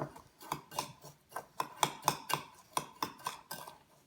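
Dry ingredients with citric acid being mixed in a small salad bowl make a quick series of light clinks and taps, a utensil scraping and knocking against the bowl in an irregular rhythm, close and fairly soft.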